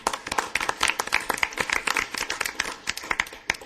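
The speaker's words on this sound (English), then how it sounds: "Well, I'm going to clap on that one." A council mayor claps hands at a regular meeting after a unanimous vote, a run of fairly close, crisp claps in uneven rhythm, with no talk over them.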